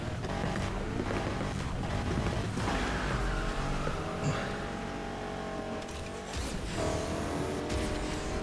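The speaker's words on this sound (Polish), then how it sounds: "Ale pięknie on chodzi, jak się dodaje gazu." A Ford Mustang engine in a street-racing video game revs and drones continuously, loud and sustained, with a rushing wind-like roar and slight pitch shifts as the throttle is applied.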